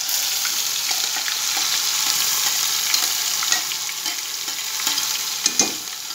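Mushroom tadka, wild mushrooms frying in hot oil in a home kitchen, sizzles steadily while being stirred, with a few sharp clinks of the utensil near the end.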